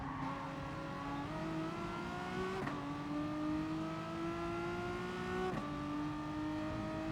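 Renault Megane race car in Gran Turismo Sport, engine droning steadily at high revs with rising pitch and two abrupt gear shifts, a second Megane running close behind in the slipstream; no talking.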